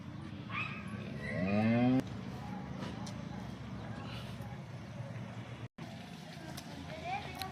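A local Banaskantha dairy cow gives one drawn-out, rising moo early on, followed by ongoing farmyard noise and voices in the background.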